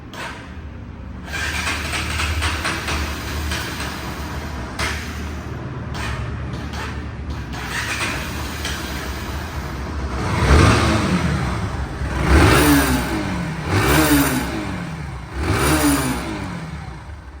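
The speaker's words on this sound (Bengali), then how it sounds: "দশ হাজার কিলো চলা বাইকটি সাউন্ড কোয়ালিটি শুনুন" A second-hand Bajaj Pulsar NS 160cc motorcycle with about 10,000 km on it runs steadily, then revs up sharply several times in rising and falling bursts, loud and close with no talking.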